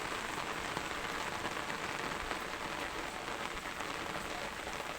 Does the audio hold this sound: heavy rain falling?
yes